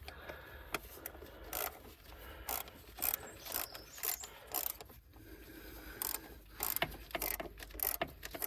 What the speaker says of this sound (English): hand tight before you go out with a ratchet